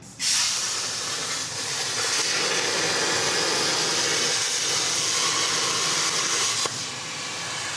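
A Thermal Dynamics A120 plasma cutter torch fires with a loud, steady, close hiss of rushing air and arc that holds for several seconds and then drops slightly near the end.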